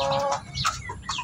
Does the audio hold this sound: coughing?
no